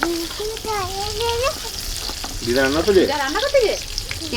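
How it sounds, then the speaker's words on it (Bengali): Potatoes sizzle and crackle steadily in a hot pan, with occasional stirring, while voices talk over it. "খাসি মাংসের জন্য আলুগুলো একটু লাল লাল করে ভাজা করে নেবো"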